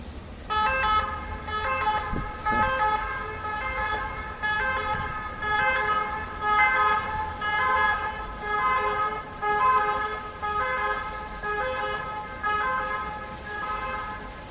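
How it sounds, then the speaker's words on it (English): An ambulance siren in Benidorm, Spain wails steadily for the whole stretch, its rising and falling tones loud and close, with faint road traffic underneath. "There's one of the ambulances coming in."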